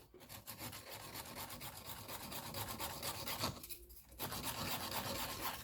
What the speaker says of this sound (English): So then we prepare the natural nail. So for that we use the file to begin with.